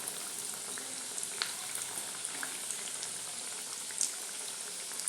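Bread pakoda fries in hot oil after being flipped, making a steady, dense sizzle and bubbling with scattered tiny pops and crackles throughout, close and continuous.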